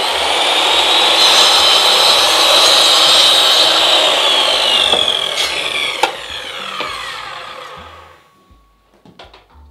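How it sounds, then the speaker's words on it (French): A jigsaw rasps steadily through wood paneling for several seconds, then the cutting tails off and stops, leaving a few faint knocks. "Alors, découpe à la scie sauteuse, un peu compliqué."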